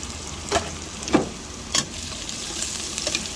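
Garlic, white onion and sliced hotdog sautéing in a pan, with a steady sizzle broken by a few brief scraping stirs, close and moderately loud.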